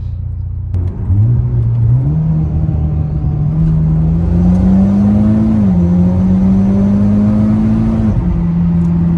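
A Mitsubishi Evo X MR accelerates hard, its engine note climbing steadily in pitch with a brief dip at a gear change and another near the end, loud and close throughout with a steady road rumble underneath.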